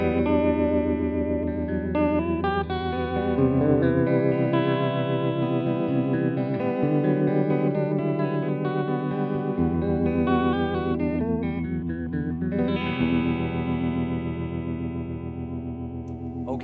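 Electric guitar played through a Magnatone Twilighter amp with tremolo and reverb, sustained chords and notes pulsing in a steady wavering throb, loud and close with no talking.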